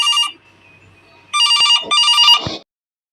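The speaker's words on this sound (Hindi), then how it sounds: "अरे छोटे, लगता है किसी की फोन आ रही है।" A telephone rings in two short bursts of electronic trilling, loud and close, separated by a quiet pause, then stops.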